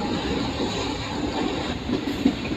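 A Repalle to Tenali MEMU train runs steadily on the rails, giving a continuous rumbling roll with faint wheel clatter, heard from inside the moving train with no voices.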